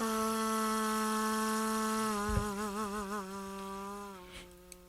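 Dry sample of a Tibetan kangling, the human-femur death flute: a buzzy, reedy sustained tone with many bright harmonics that wavers and warbles toward the end before cutting off, with no reverb tail.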